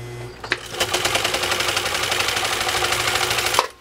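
Swedish sewing machine stitching through three layers of genuine cowhide, a rapid steady mechanical chatter running for about three seconds after a brief start, loud and close.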